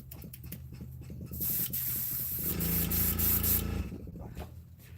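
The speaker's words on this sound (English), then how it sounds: "Have a little splatter there out of the airbrush." An airbrush sprays paint onto a handmade wooden fishing lure, a loud steady hiss of air and paint running for about a second and a half, then a second longer burst, with quieter handling noises before and after.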